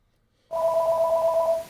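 A phone rings partway through a live update show for the War Commander game, starting abruptly after near silence as a steady, fairly loud electronic trill that holds for about a second before cutting off.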